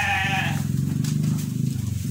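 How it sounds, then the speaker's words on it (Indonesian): Garut sheep bleat in a steady, close chorus of overlapping calls that carry on for about two seconds, loud and without pause. "Nah teman-teman, ini domba-domba kita."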